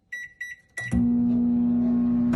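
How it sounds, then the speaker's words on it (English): Microwave oven started for a food recipe: a few electronic keypad beeps, then a steady loud hum from the running oven. "Place in the microwave and microwave for 75 seconds."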